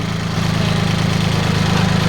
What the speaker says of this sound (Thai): นี้เป็นเครื่องยนต์สามสูบนะคะ